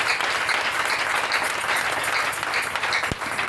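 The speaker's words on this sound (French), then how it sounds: "Acclame puissamment Jésus." Church congregation applauding loudly to acclaim Jesus during an evening preaching service, a dense sustained roar of many hands clapping together, steady and continuous with no talk over it.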